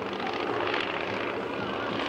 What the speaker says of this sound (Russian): Это был энергичный вираж